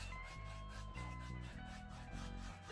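Oil paint being rubbed across a canvas with steady pressure to soften a sunset sky, a continuous close scraping rub with no voices over it.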